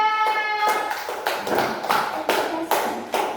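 Third-grade classroom applause: pupils clap in loud, distinct rhythmic group claps, roughly eight in steady succession, after a brief held tone at the start.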